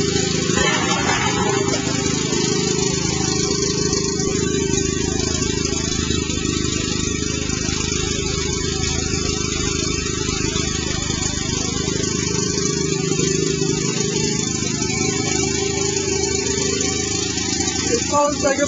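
A biogas-fuelled generator engine running continuously at a steady, loud drone with a rough, buzzy exhaust tone, unchanging throughout.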